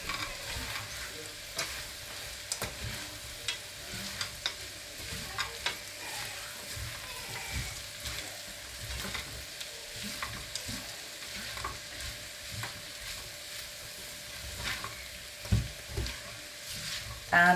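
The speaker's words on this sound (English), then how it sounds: "We can now add the frozen peas into this." Frozen peas and cooked potatoes fry and get stirred in a pan for a Punjabi lamb samosa filling, a steady soft sizzle with scraping stir strokes and light clinks throughout, fairly quiet, with no talk.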